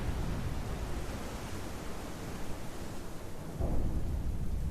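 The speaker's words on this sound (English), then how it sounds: "you feel the platform rolling around in the storm" A thunderstorm at sea in Mass Effect, a constant roaring wash of wind and rain with a deep rumble swelling near the end, loud and unbroken.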